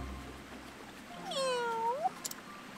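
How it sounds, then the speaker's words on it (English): A cat in the video game Octopath Traveler 2 gives a single clear, drawn-out meow over quiet ambient game music. A few short chime-like sound effects follow. "Meow."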